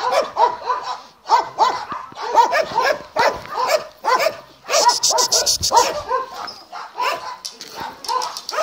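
Dog barking among a herd of domestic animals, repeated loud close barks and yips in quick bursts, with people talking intermittently.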